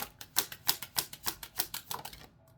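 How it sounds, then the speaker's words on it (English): Oracle cards being shuffled by hand, a steady run of about a dozen crisp, close riffling slaps at an even rhythm that stops abruptly near the end, with no talking. "we're going to just go ahead and start shuffling this way"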